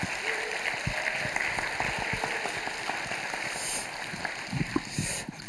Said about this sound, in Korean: 우리 장로님께도 다시 한번 큰 박수 부탁드리겠습니다